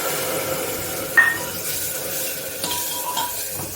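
Coriander, chilli and turmeric paste stirred into masala frying in a pan for cabbage and potato sabzi, a soft continuous sizzle with a sharp clink of utensil on pan and light scraping.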